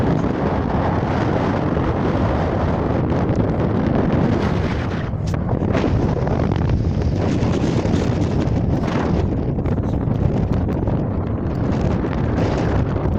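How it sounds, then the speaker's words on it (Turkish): Strong, steady wind on a mountain in Artvin, Turkey roars and buffets the microphone throughout, a continuous broadband rush with slight gusting and no voices. "Çok rüzgar oluyor."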